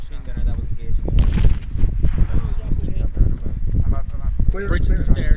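Gunfire in Arma 3 during a town assault, sharp shots cracking irregularly amid dense radio chatter and voices, with footsteps and movement noise in a busy, cluttered mix.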